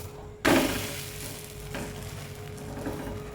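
A dosa is flipped onto a hot pan and hits it with a sudden sharp sizzle that bursts loud, then fades to a softer steady frying hiss, heard close up without talk.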